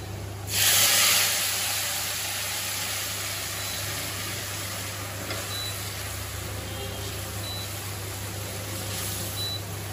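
Lentils tipped into a hot pan of tempering give a sudden loud sizzle that settles into a steady hiss, with a low constant hum from a kitchen appliance underneath.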